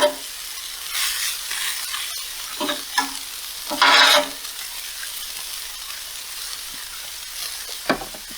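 Vegetables for an egg roll in a bowl sizzle on a Blackstone griddle outdoors while a spatula stirs and scrapes them in repeated bursts, the steady frying hiss rising with each stir, close up and without talk.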